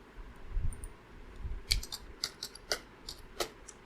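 Someone types on a computer keyboard, tapping out a few quick, irregular keystrokes, close and fairly quiet, with no voice.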